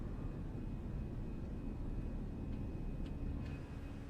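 A Fenix A320 jet in Microsoft Flight Simulator climbs after takeoff, a steady broadband engine rumble and roar that holds at an even level throughout, with faint clicks near the end.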